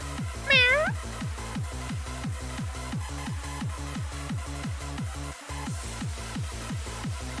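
A cat meows once, a rising tonal call near the start, heard over a loud, steady looping electronic beat with a repeating rhythmic pattern.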